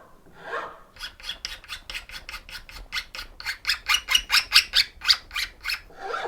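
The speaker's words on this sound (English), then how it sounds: "that's where you can come back with the flat edge here and just gently remove the excess overhang" An edge banding trimmer's flat edge shaving excess overhang off a glued edge band, a quick run of about twenty short rasping strokes that grow louder and sharper toward the end, close and without speech.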